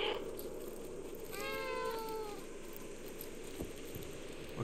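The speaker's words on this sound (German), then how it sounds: "Drücke Kreis und miauen." A single drawn-out meow from the cat in the video game Stray, clear and close, rising then falling over about a second against a steady ambient hum, with no talking.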